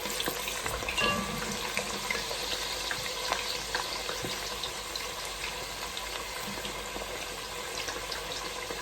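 Chips deep frying in hot oil, giving a steady close sizzle and bubbling that runs unbroken from start to finish, with small pops scattered through it.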